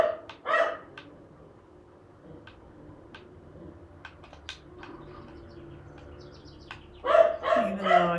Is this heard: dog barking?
yes